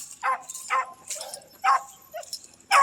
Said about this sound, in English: That little puppy making all that noise.